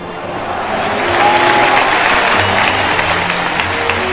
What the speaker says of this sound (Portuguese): todos pudessem dar uma salva de palmas àqueles irmãos que se foram